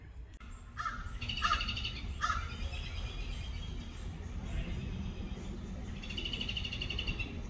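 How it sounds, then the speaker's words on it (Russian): A crow or large raven caws several times outdoors at a forest clearing, a few harsh, separate calls early on and another run near the end, over steady background noise. "Там вот огромный ворон или ворона, видите?"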